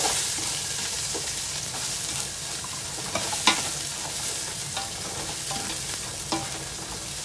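Garlic and onion sauté in hot oil for chicken adobo, a constant close sizzle broken by scrapes and clinks of a utensil stirring the pan.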